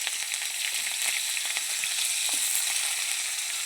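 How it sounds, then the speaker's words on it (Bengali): Diced onion frying in hot oil in a pan, tempered with white cumin seeds and a dried red chilli, gives a steady close sizzle with occasional soft stirring clicks and no talking. "ডুমো ডুমো করে রেখেছিলাম পেঁয়াজটা দিয়ে দিলাম"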